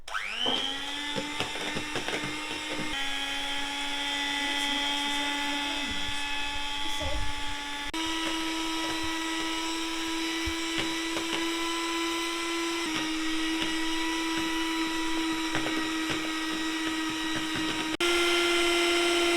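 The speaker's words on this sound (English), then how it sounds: "Now we are stirring the cream with the whisker." Cream is beaten in a kitchen, with a continuous loud motorized whir like an electric mixer running steadily throughout and pausing briefly between stretches, alone with no voices.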